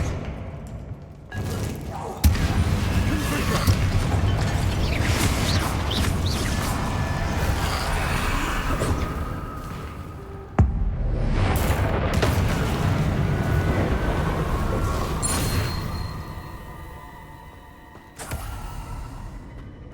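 Fire-spell explosions in the Hogwarts Legacy video game: heavy booming blasts with sharp onsets, one near the start, one around ten seconds and another near eighteen, each trailing into dense rumbling game audio.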